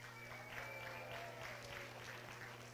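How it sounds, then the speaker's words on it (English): Faint, thin smattering of applause from a school audience at a science show, a light patter of claps over a steady background hum. "A smattering of applause."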